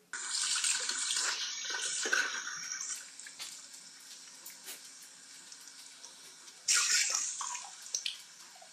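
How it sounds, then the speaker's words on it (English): Tap water runs steadily into a kitchen sink while someone washes a pot. The flow sounds fairly close, fades to a softer trickle, then gushes again near the end. "I think he might be washing his pot. Then he wash the pot, then he eat."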